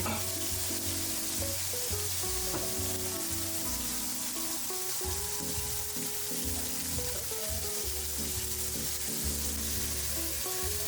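Guanciale frying steadily in a pan for spicy miso carbonara, a loud continuous sizzle with crackle and clinks of a utensil, close up and without talk.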